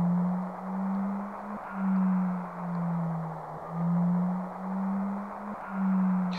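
An eerie sound effect from the video game Final Fantasy VII stands for the stars in the sky: a low, steady hum that swells and fades in slow repeating waves over soft hiss, with no voices.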